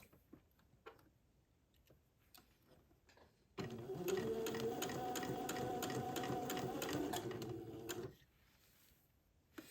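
Sewing machine stitching fabric along a curved seam of a baby's heirloom bubble romper, a steady rapid mechanical whir running for about four seconds between quieter handling noises, close and loud.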